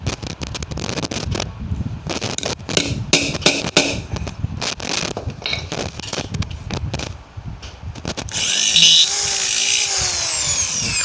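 A power drill whirs in short bursts with clattering, knocking strokes at close range, then a steady high whine takes over near the end.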